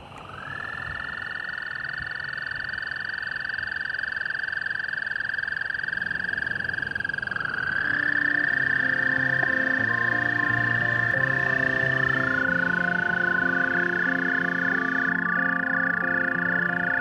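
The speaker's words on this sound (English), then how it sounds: "Our puddle's full of American toads, a magnificent animal" A chorus of American toads trilling at a rain-filled puddle at night: long, steady high-pitched trills overlapping continuously, with a second voice joining partway and lower croaking notes underneath, close and loud with no talk.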